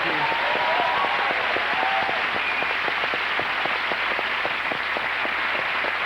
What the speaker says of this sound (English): A round of applause, Ben.